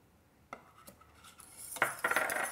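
Butter goes into a vanilla bean pastry cream mixture in a kitchen, marked by a few scattered utensil clinks and taps, then louder close scraping and clattering against the pot.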